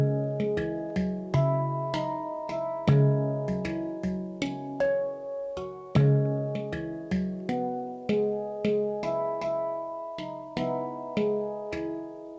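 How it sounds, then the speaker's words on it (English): A handpan played by fingers rings out in a steady sequence of struck, resonant metallic notes, each with a soft attack and long sustaining tone, close and clear with no voices. "There I have played the handpan by fingers."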